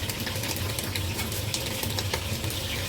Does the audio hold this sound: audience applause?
no